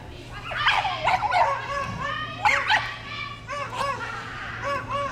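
A dog at an outdoor demonstration in Havndal whines, yips and barks in short, excited bursts, fairly close, with a low steady hum beneath and no clear talk.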